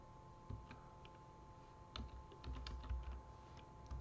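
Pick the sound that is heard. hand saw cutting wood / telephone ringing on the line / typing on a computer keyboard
typing on a computer keyboard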